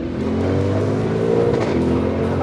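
A 1001-horsepower MTM-tuned Audi RSQ8 accelerates hard with a loud, deep, sustained engine roar that holds a steady droning tone throughout.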